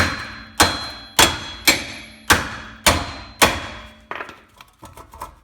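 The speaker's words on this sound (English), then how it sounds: "Once again, we'll use the mallet. Give it some good hits." A mallet strikes a seized rear wheel hub on a Kia Rio six times in a steady rhythm, each hit a sharp, loud metallic thud, followed by a few lighter, quicker knocks and taps.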